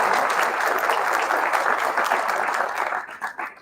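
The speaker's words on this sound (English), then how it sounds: "So let's give them a round of applause." A ceremony audience of family and friends at a physical therapy white coat ceremony claps loudly in a dense, sustained round that thins out and breaks into scattered claps near the end.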